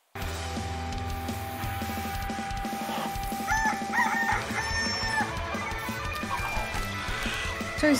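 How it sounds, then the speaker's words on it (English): Rooster in the Far Cry 6 video game crowing amid clucking fowl and barking dogs, layered over game ambience and background music. "So he's gotta be a rooster."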